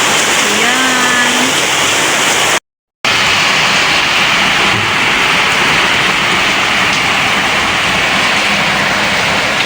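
Heavy rain pours steadily outdoors in a dense, even hiss, with a person speaking briefly near the start and a short break in the recording.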